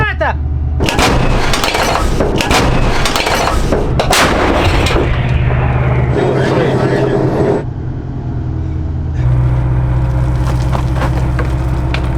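A British self-propelled artillery gun fires heavy blasts in succession, recorded from inside, loud and close, with a rumbling engine drone underneath and brief shouted voices between shots.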